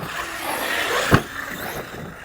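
A massive Chinese-made RC car, priced at $700, drives past with a steady electric motor whine and rolling tire noise, one sharp knock midway, heard close and fairly loud with no voices.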